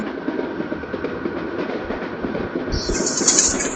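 A long train passes close by with a steady rumbling roar and rhythmic clatter of wheels on rails, a higher squeal or bird chirps rising near the end; no talk.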